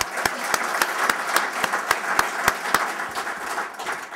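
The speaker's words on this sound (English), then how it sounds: "Let's give him a round of applause." An audience at a sports hall of fame ceremony gives a short round of applause, a dense patter of many hands with a few sharp nearby claps standing out.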